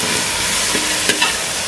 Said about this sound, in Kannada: ಅವು ದೊಡ್ಡ ಬ್ರೌನ್ ಕಲರ್ ಆಗುತ್ತಕ ಹುರಿಬೇಕು